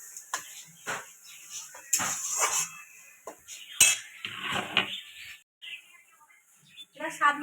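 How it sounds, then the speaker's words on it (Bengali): A utensil stirs vegetarian shapla curry in a pan, making intermittent scraping clinks and clattering knocks at close range, with a voice speaking between the stirs. "আবার একবার ভালো করে নাড়িয়ে নেবো।"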